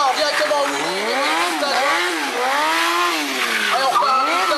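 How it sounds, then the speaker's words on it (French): A stunt motorcycle revs hard and continuously at an outdoor stunt show, its engine pitch rising and falling in sweeping surges as it accelerates, drifts and wheelies, loud and close with a gritty, buzzing edge. "Donc c'est la gestion de la moto simplement à l'accélération."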